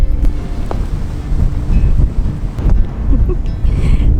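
Steady outdoor wind buffeting a microphone on a chilly coastal morning, a low continuous rumble with gusts throughout and faint voices in the background.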